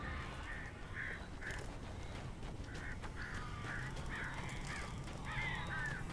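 Crows in the video game Alan Wake caw repeatedly in short harsh bursts over a low rumbling ambient background, spaced through the scene at moderate distance with no talk.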